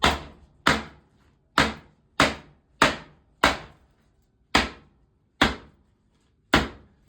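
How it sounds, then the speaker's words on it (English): A meat cleaver chops pork spare ribs in nine sharp, loud strikes at an uneven pace, each one a hard thud followed by a short ringing decay, with nobody speaking. "Again, our trusty meat cleaver. Give them little chops in there."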